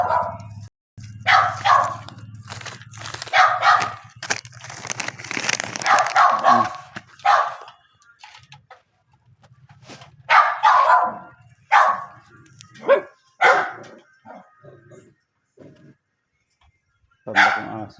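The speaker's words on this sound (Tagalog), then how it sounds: "Tanda kong aso." An old dog barking nearby, a series of loud, uneven barks and yips in irregular bursts with short pauses between them.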